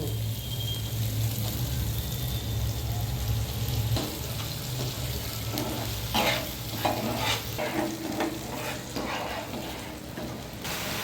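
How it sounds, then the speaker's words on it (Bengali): Tomato paste stirred into spice masala frying in oil for a bata fish curry: a constant close sizzle with scraping spoon strokes that become busier and more rhythmic in the second half. "ভালো করে নেড়ে নেব।"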